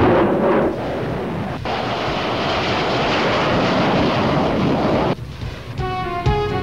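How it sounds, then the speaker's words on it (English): An F-7 jet aircraft firing rockets in an attack run: a loud, continuous roar and rumble of jet engine and rocket blasts lasting several seconds, ending in a sudden drop and faint tonal sounds. "Finally, the F-7 aircraft is going for a rocket attack."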